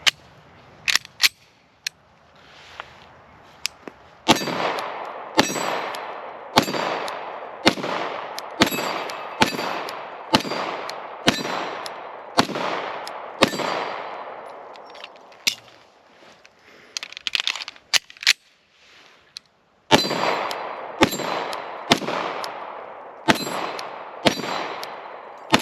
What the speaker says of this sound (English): Okay, first shots with the Beretta 92.